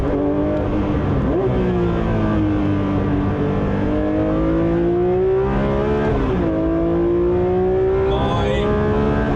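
A Porsche 911 S/T (992) with a short-ratio gearbox revs hard while driving, its engine note climbing and dropping through gear changes, loud and close inside the car, with a voice speaking faintly over it.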